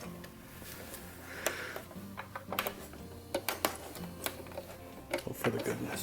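A sewing machine stitches a jumpsuit collar in short quiet clattering runs and ticks, with a voice speaking faintly over parts of it.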